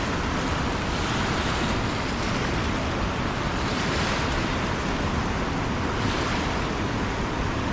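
High, rushing river water at full flow, a loud, steady broadband roar with wind buffeting the microphone, no voices.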